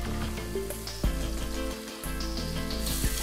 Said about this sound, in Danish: Så kommer vi noget smør i en gryde.